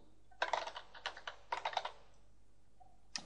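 Quick taps on a computer keyboard as a password is typed, two close clusters of crisp keystrokes separated by a short pause, then a final lone tap, heard alone in a quiet room.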